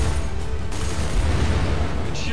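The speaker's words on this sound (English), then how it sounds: "Missiles away." Missiles launched from an aircraft in a video game, a dense continuous roaring rumble of rocket thrust and blasts filling the whole stretch, loud and close, with a brief higher hiss near the end.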